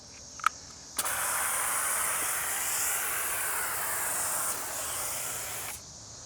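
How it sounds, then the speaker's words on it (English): Alkali wheel cleaner from Koshemi sprays onto a car's wheels in one long, loud, continuous hiss lasting several seconds, preceded by a couple of sharp clicks. "Then I'm going to apply the Koshemi Alkali Wheel Cleaner."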